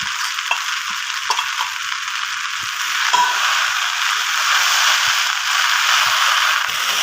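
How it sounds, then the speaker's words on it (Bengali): Egg stir-fried with pasta in a hot pan gives a steady, close sizzle that runs throughout, with light scraping and stirring rustles and a slight swell in intensity partway through. "ডিমটা দিয়ে আমি এটা ভালো করে নেড়ে ভাজা ভাজা করে আমি নামিয়ে নেবো।"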